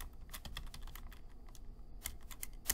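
Quick bursts of clicking keystrokes on a computer keyboard as a git commit command is typed, close and fairly quiet, in uneven clusters with a short pause midway.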